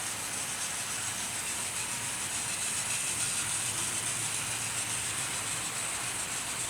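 Three 0-6-0 steam locomotives run together, giving a steady broadband hiss and rumble that carries on evenly throughout, fairly faint with no voices.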